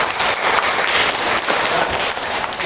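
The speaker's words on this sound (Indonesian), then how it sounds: "Kasih tepuk tangan untuk Bagas." Classroom applause for a student after a presentation, a steady burst of many hands clapping together, fairly loud and continuous throughout.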